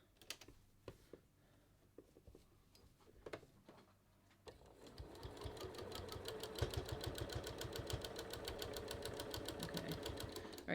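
A sewing machine stitches knit fabric for a kangaroo pocket on a top, opening with a few sparse clicks as the needle is hand-walked, then settling into a fast, even mechanical chatter that runs to the end, close and fairly quiet.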